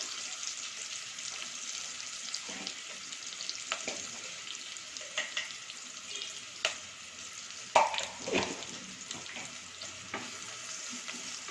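Onions sauté in a pan for mint biryani with a soft, steady sizzle, while the stirring spoon scrapes and clinks now and then. The sound is fairly quiet and close, with no voices.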